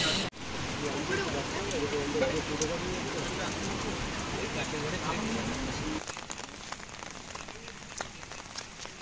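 Heavy rain falls steadily near the sea at Gangasagar, heard from a roadside tea stall as a dense, close patter on surfaces that runs continuously, easing slightly toward the end.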